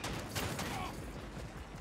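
Video game gunfire, a rapid run of shots and mechanical clatter that is continuous and fairly loud throughout, with a player's voice talking over it.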